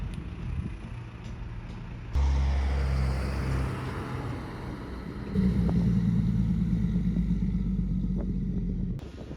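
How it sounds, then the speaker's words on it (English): Construction vans and trucks pass along a street in a new outer-suburban estate in Melbourne, a steady engine rumble that surges louder partway through as heavier vehicles go by, then cuts off near the end. "These vehicles not only pose a danger to children and pedestrians, but also create a lot of noise and dust whenever they pass by"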